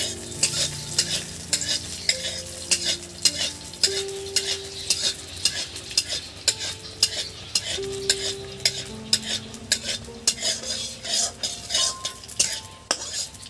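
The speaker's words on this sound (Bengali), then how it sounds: "কাঁচা বাদাম দিয়ে দিলাম। এবার এটা নেড়ে চেড়ে নেবো।" Raw peanuts fry in a little oil in a pan while a utensil stirs them, giving repeated scraping and clinking strokes over a steady sizzle, close and fairly loud throughout.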